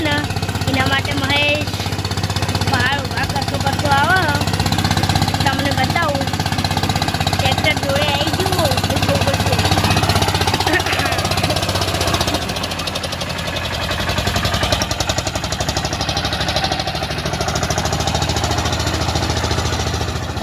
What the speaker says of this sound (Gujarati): મિત્રો અમારું ટ્રેક્ટર ખેડે છે તો તમને ટ્રેક્ટરનું આ કલ્ટી છે